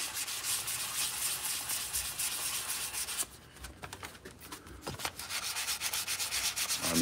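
Steady, close scratchy rubbing of sandpaper on wood by hand, continuous strokes with a short quieter pause midway.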